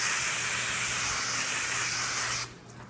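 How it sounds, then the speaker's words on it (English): Olive oil sprayed from a spray bottle onto a seasoned brisket before smoking, a steady close hiss lasting over two seconds that stops abruptly. "We're going to spray a little bit of this on"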